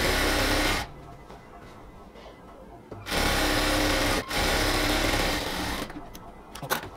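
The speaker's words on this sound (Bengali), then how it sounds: "আমরা এখানে হচ্ছে 1/2 ইঞ্চি করে আগে একটা বর্ডার সেলাই করে নেব।" A sewing machine runs in bursts, stitching a half-inch border along a cotton salwar waist, its steady whirring motor stopping and restarting several times with short pauses between runs.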